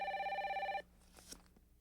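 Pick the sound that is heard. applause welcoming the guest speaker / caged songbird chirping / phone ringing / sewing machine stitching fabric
phone ringing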